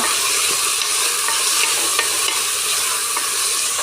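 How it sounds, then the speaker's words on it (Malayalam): Finely chopped onions stirred in coconut oil in a pan for Kannur-style tomato rice give a loud, even sizzle with soft scraping ticks from the spoon throughout. "ഇതിലേക്ക് 2 വലിയ സവാള ചെറുതായി അരിഞ്ഞത് ആഡ് ചെയ്ത് കൊടുക്കാം. മിക്സ് ചെയ്യുക."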